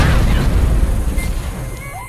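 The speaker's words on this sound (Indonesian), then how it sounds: "Setelah terjadi ledakan" A deep, rumbling explosion in a film, with a heavy low-end boom that rolls on and slowly fades, loud and close, with faint debris-like crackle above.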